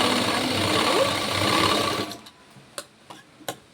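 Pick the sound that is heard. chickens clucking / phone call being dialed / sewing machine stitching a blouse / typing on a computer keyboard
sewing machine stitching a blouse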